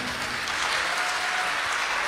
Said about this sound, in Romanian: să o aplaudăm, merită.